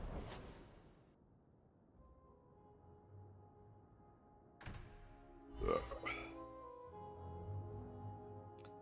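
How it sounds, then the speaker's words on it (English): A gamer's belch rises over quiet background game music, one loud burp with a couple of smaller grunting eructations around it, close to the microphone. "Sorry about the burps."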